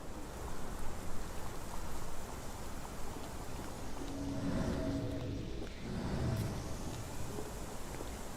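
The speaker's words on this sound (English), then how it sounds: "This dreary rain is making a miserable day even worse." Rain in the video game Sherlock Holmes The Awakened makes a steady hiss of falling drops that runs throughout with no break, at a moderate level, with a faint rumble underneath.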